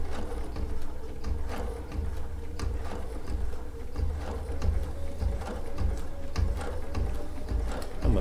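A Baby Lock Sashiko sewing machine stitches a quilt seam with a steady, close mechanical whir and rhythmic ticking that runs continuously, with no talking.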